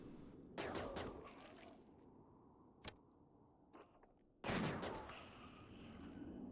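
Colonists' gunfire in the RimWorld game comes as faint, distant bursts: a rattling volley, an isolated crack, and another louder burst later over quiet background.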